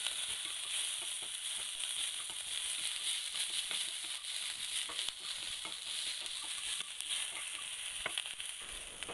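Curry leaves and coriander leaves sautéing in a pan for a country chicken gravy, giving a steady, close crackling sizzle with scattered stirring scrapes throughout, no voices.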